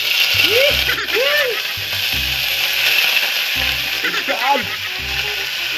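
Garlic sautés and then pork fries in a hot pan with a loud, constant sizzle close by, broken by scraping stirs and a brief exclaiming voice.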